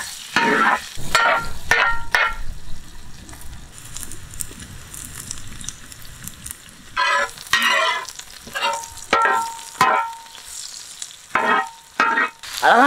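Chopped onions fry in sesame oil for a crab gravy, with steady sizzling broken by repeated loud scraping and stirring strokes in an irregular rhythm, close by.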